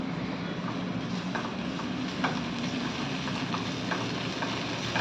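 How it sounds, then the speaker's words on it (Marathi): Capsicum and red bell pepper frying in ghee give a steady, even sizzle with faint stirring clicks over the whole stretch, fairly quiet and with no voice. "आपल्याला फ्राय करून घ्यायचा आहे तुपामध्ये"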